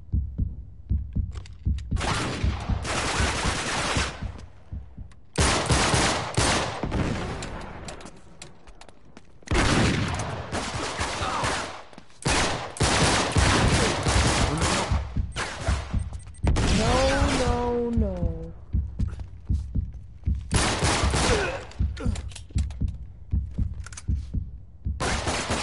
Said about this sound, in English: That is a spammable pistol.